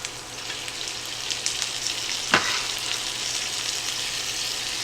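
Diced tomato sizzling in a frying pan, a steady crackling hiss at moderate volume, broken by one brief sharper pop midway, with no voices.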